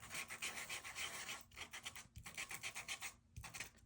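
Cardstock is sanded by hand in quick, close back-and-forth strokes that come in three runs with brief pauses, a faint dry rasp with no talking.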